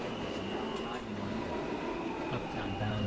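An R160A E subway train moving through the tunnel gives a steady, fairly loud rumble with a constant high whine, while an announcement voice speaks over the noise.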